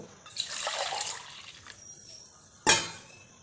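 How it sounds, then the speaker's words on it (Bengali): Warm water is poured a little at a time into maida flour for pitha dough: a soft trickling pour for about a second, then a sharper single splash, close and fairly clear, with no voices. "জলটা আমি অল্প অল্প করে দিয়ে ময়দাটাকে সুন্দর করে মাখিয়ে নেবো"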